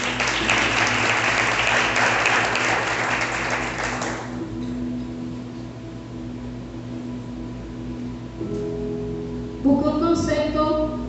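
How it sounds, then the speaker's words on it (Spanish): A church congregation claps together in a loud, dense burst of applause lasting about four seconds, then fades into a quiet hall before a voice returns with music. "Denle un fuerte aplauso al Señor."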